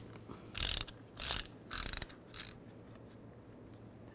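A ratchet fitted with a 17mm socket works loose the turbo coolant pipes on a 2007-2013 Mini Cooper S, giving four quick bursts of close clicking, the last one shorter and softer.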